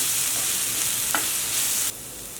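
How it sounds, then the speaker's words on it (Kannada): Chili paste fries in a pan with a steady hissing sizzle and a brief stir-scrape near the middle, the sizzle dropping abruptly quieter toward the end, with no talk. "ಮೆಣಸಿನಕಾಯಿ ಪೇಸ್ಟ್ ಹಾಕ್ಕೊಳ್ಳೋಣ ಮೆಣಸಿನಕಾಯಿ ಸ್ವಲ್ಪ ಫ್ರೈ ಆಗಲಿ"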